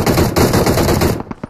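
Automatic gunfire in the mobile game PUBG Mobile, a rapid loud burst of closely spaced shots for about a second, then a few scattered clicks as it stops.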